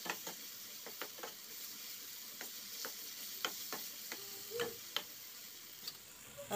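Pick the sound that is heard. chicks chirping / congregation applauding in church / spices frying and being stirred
spices frying and being stirred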